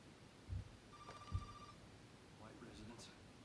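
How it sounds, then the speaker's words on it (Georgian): A telephone bell rings faintly in a single short trill in the background, with low thumps and quiet voices around it. "ტელეფონს ხომ არ უპასუხებდი?"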